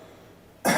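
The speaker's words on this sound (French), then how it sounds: "Toussez." A single short, sharp cough bursts out at the very end after near silence, given on request during a prison medical examination.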